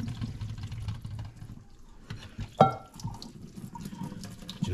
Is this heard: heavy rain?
no